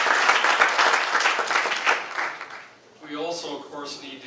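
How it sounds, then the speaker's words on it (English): A crowd applauds at a business plan competition final event, a dense round of clapping that fades out before a voice begins speaking. "Let's give them a big round of applause."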